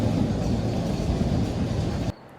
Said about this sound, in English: This little tram goes up and down this hill, and these trams go all over the city.